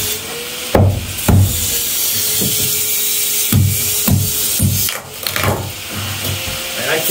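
Glued foam being pried and ripped off a DIY travel trailer body, a series of sharp cracking tears and knocks, about eight of them, spaced irregularly over a steady hiss close to the microphone.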